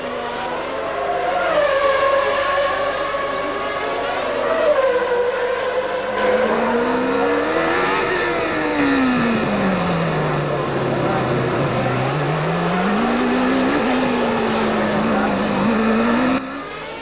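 Formula One race cars at the 1994 Monaco Grand Prix, engines screaming loud and close, pitch sweeping up and down through gear changes as cars pass, continuous high-revving whine throughout.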